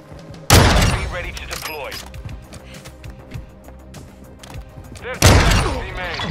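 Two loud, close gunshot blasts in a video game, roughly five seconds apart, each with a sharp attack and a ringing tail, with game noise running between them.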